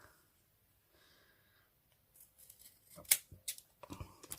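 Scissors cutting faux leather for a no-sew pinch bow: a quiet lead-in, then a run of crisp snipping strokes that grows louder toward the end, close up, with no talking.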